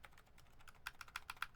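A mechanical keyboard is typed on in a quick burst of about a dozen sharp clicks, with the backspace key bottoming out hard, growing louder and crisper toward the end.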